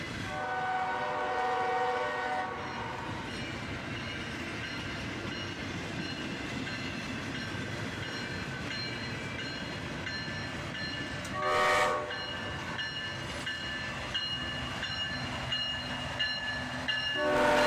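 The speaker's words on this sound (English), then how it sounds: "About a minute later, the second train arrived." A CSX freight train passes on the tracks, its horn sounding in long tones at the start and again midway, over a continuous rumble and rattle of rolling railcars.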